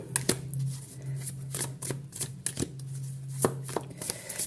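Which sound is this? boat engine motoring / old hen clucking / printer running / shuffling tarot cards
shuffling tarot cards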